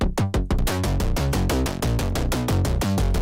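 Heavily distorted synth bass built from a sub and two saw waves under a closing filter, for Friday Night Funkin' mod music, a loud gritty pulsing line in rapid rhythmic stabs, playing alone.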